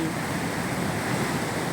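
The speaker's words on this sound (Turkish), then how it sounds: "bu denize kayalarla dans eden dalgalardan" Mediterranean sea waves wash and break against coastal rocks, a steady, dense roar of surf with wind, close and loud throughout, no voices.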